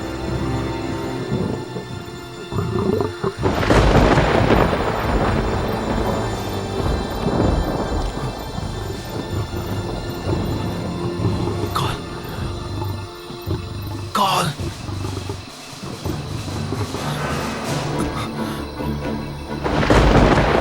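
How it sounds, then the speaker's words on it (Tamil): A thunderstorm in a dubbed Hollywood film: heavy rain pours steadily while loud rolling thunder rumbles and cracks nearby, with a sharp clap around midway. "புயல் வர மாதிரி இருக்கு."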